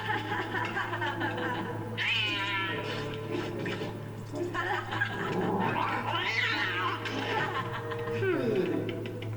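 A cat meows repeatedly in the Lego Harry Potter video game, a drawn-out, wavering cry over game music and a steady low hum, with someone talking over parts of it.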